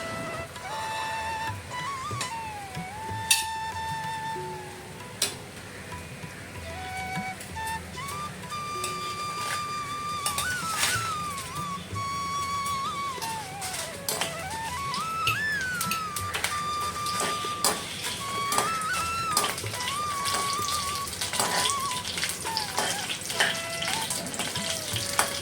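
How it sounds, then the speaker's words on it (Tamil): Dried Kashmiri and regular red chillies with fenugreek seeds fry in oil, giving a steady, moderate sizzle beneath a light melodic background tune. "காஷ்மீரி காஞ்ச மிளகாய், நார்மல் காஞ்ச மிளகாய் அண்டு வெந்தயம் எல்லாமே சேர்த்து நம்ம நல்லா ஆயிலில் ஃப்ரை பண்ணி எடுக்க"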